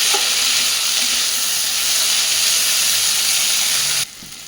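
Flat beans (shim) frying in a pan with peppercorns, a loud, continuous sizzle and hiss that stays strong, then drops off sharply near the end.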